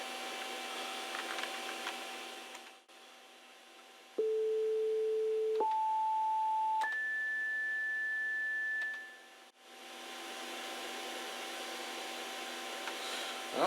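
An IBM model 8595 computer under test emits a sequence of three clean electronic beeps, each rising in pitch and running into the next, over a steady fan hum that drops out before and after.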